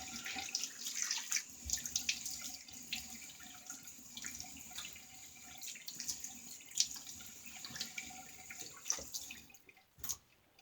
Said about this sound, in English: All right, let's get a rinse and clean up.